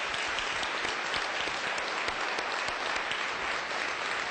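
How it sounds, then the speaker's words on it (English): Audience applause for members of an education commission standing to be recognized at an evening public meeting, a dense, steady wash of many hands clapping throughout. "Please give them a round of applause."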